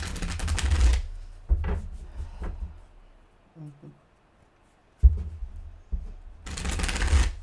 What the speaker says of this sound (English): Give me a couple more shuffles.